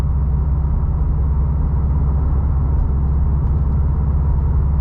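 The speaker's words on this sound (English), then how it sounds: "Big 19-inch wheels on this car, and you could definitely hear the road noise from the wheels" Steady low tire and road rumble inside a 2020 Subaru WRX STI Limited on big 19-inch wheels while driving, a constant droning hum with no talking over it.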